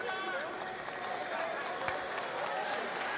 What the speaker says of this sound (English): Nice applause from those here in attendance tonight.